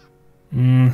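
A screaming goat in Minecraft gives one loud, harsh bleat that bursts in after a brief quiet lead-in and holds steady to the end.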